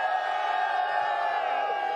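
Large esports arena crowd at The International 2022 Dota 2 event, a dense roar of cheering and shouting voices sustained loudly throughout.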